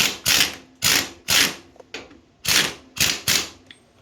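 Seven sharp ratcheting bursts from a wrench loosening a 27 mm nut on a 1999 Honda FourTrax 300 ATV, each a quick clicking pawl rattle close by, in an irregular rhythm with short pauses between.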